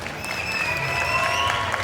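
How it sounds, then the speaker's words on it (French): Audience applause at the Vannes Sekai 2023 stage event, a steady dense wash of clapping filling the short stretch, with faint cheering voices mixed in. "S'il vous plaît, on peut les applaudir encore une fois."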